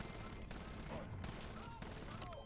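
Gunfire from a weapon with the Anvil attachment in Black Ops 7 Zombies, a dense continuous stream of rapid shots with brief breaks between bursts, layered with game effects.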